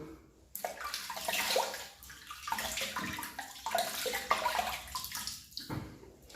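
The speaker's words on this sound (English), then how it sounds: "Wet the face, Joe." Water runs and splashes in a sink as the face is wetted before a shave, an uneven nearby stream of splashing and dribbling with brief pauses.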